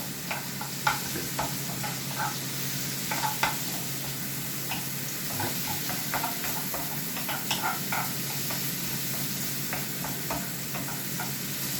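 Breakfast food frying in a pan with a busy, steady sizzle and crackle, scattered sharp pops and spits over a constant hiss, close and moderately loud, no talking.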